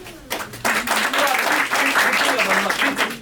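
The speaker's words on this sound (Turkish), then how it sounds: "onun için büyük alkışlar istiyorum ona" An audience at the opening of a stand-up comedy night in Beyoğlu breaks into sustained applause after a brief quiet moment, with voices heard over the clapping.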